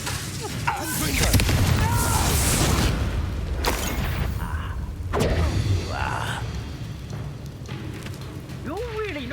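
Confringo fire spells explode in the Hogwarts Legacy video game, with several booming bursts and crackling blasts over a rumbling game background while a player calls out spell names between them.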